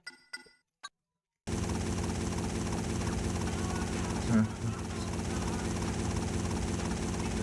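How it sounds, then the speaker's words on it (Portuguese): Helicopter in the PS2 game GTA Vice City Stories flies with a steady, continuous rotor and engine drone that fills the clip after a short quiet start, with a brief louder swell midway. "Espero que o helicóptero dure."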